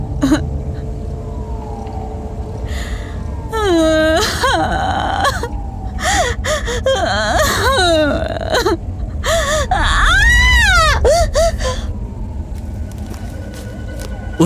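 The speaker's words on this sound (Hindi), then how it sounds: "सिसकने की आवाज बढ़ने लगी।" A woman sobs and whimpers in a horror-story sound effect: wavering, rising and falling wails broken by gasps and catches of breath, loud and close over a low rumbling bed.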